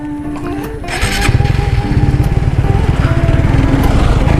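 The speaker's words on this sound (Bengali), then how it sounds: "একটা বাইক আসছে" A motorcycle approaches and passes on a road in Bangladesh, its engine rising from a distant drone to a loud, close, rapid pulsing throb.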